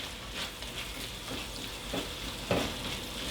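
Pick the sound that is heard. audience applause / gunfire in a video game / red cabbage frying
red cabbage frying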